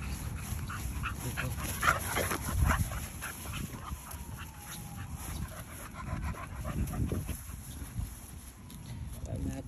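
Dog panting and whimpering amid a noisy outdoor gathering, with people talking over it throughout and steady breathing sounds close by.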